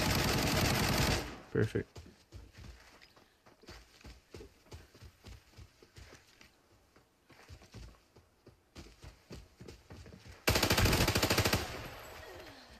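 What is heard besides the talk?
enemy gunfire in video game Arena Breakout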